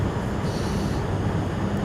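Game train rolling along the Bayport branch in snowy conditions, a steady close rumble of wheels and carriage noise running continuously without pause.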